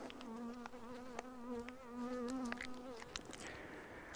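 Honey bees buzz close by during a honeycomb honey harvest, one steady droning hum wavering in pitch for about three seconds, then shifting into a higher, thinner buzz, with other bees passing and no voices.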